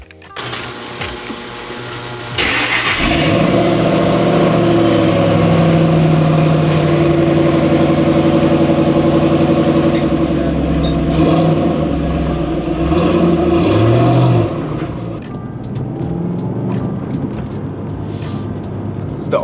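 A car being driven with its engine running steadily and loud throughout, revving and shifting pitch midway, then dropping to quieter road rumble near the end; no talk.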